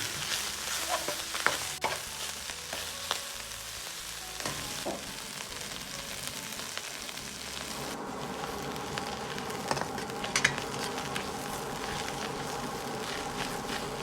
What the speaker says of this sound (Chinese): 通过这样的煸炒，炒出酸菜里边都有的水分